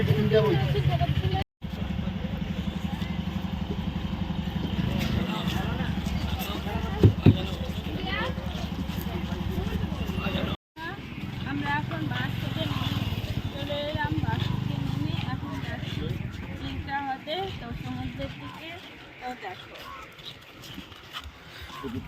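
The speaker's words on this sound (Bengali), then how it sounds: "আমরা বাসে উঠে বসে গেছি সবাই বসে গেছে" A bus carrying a family of passengers rumbles along steadily with low engine drone and road noise, people talking over it throughout, a couple of brief dropouts and a softer stretch near the end.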